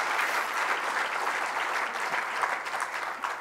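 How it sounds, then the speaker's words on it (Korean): A church audience at a childbirth and childcare conference's opening worship service claps in a loud, dense, continuous round of applause lasting throughout. "박수 한번 쳐주시죠."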